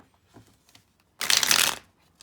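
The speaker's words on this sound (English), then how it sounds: "I hate when it doesn't shuffle all the way." Tarot deck shuffled by hand in a single loud riffling burst lasting about half a second, near and clear, with light handling taps before and after.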